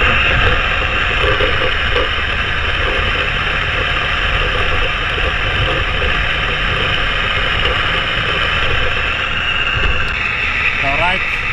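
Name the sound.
BMW M5 F10 engine driving in gear at low RPM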